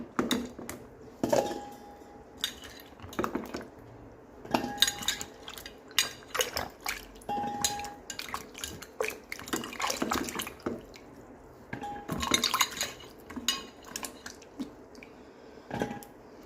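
Parwal, or pointed gourd, is washed in water in a pot, with repeated splashes, sloshing and wet knocks of the vegetables against the metal in irregular bursts, close by.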